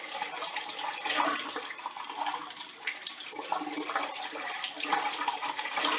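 Water from a bathroom tap runs steadily as a coconut mud face mask is rinsed off, a continuous close splashing and trickling with no voices.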